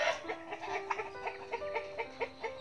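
Pheasants in a farmyard give a series of short clucks and squawks, repeated in an uneven rhythm at moderate volume with no talk.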